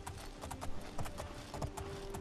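A horse trots in the video game Oblivion, its hooves striking in a quick, uneven clip-clop rhythm, close and clear over a low ambient background, with no speech.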